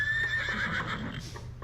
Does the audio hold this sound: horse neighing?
yes